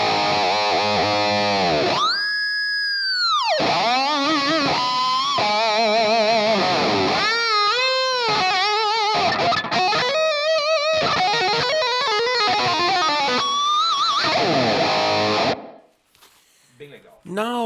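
Electric guitar played through a Flamma FS02 reverb pedal on its room setting: sustained, distorted chords and single notes ring out with a short ambient tail, continuous and loud before cutting off near the end, with no talking.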